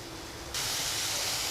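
Chopped onions sautéing in a pan for a dry prawn (sukhi karandi) dish, cooked until soft; a steady, fairly loud hiss starts abruptly partway through and continues with no talking.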